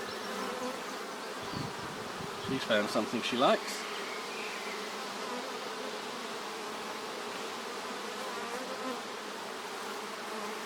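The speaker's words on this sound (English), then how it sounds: "We'll sort of see a bee here doing the waggle dance like crazy." Honey bees buzz steadily around a nuc hive, a continuous close hum throughout with a brief burst of nearby wing activity, and a voice speaks softly over it.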